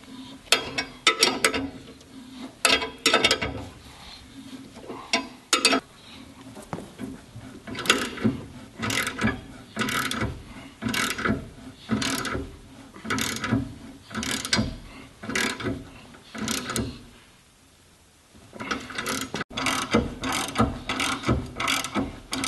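A ratchet clicks in quick, repeated bursts while tightening lug nuts that draw wheel studs into the plate of a Jeep JK body-mount tire carrier. The bursts are close and fairly loud, with short pauses between strokes.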